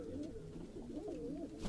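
Sialkoti pigeons coo softly in a close, low, rolling murmur that rises and falls over a couple of seconds.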